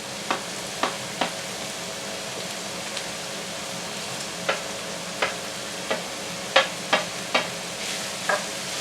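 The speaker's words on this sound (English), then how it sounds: "we're now going to go in with our carrots and celery" Carrots and celery frying in a pan for an oxtail ragu, with a steady sizzle broken by about a dozen sharp scraping stirs spread across the clip.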